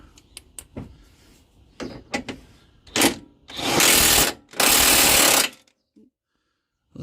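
An impact gun with a socket works on the suspension of a 2020 Ford Fiesta ST, giving short taps and then two loud, sustained rattling bursts of a couple of seconds each, up close in a workshop, before falling silent.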